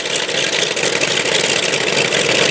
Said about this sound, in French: cet avion est en train de chauffer